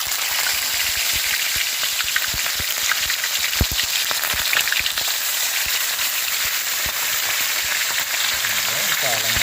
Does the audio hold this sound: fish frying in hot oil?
yes